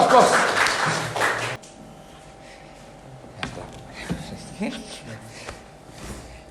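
A short, loud burst of applause welcomes a guest on a talk show about HIV in Bali, cutting off abruptly after about a second and a half, followed by quieter speech and scattered small sounds.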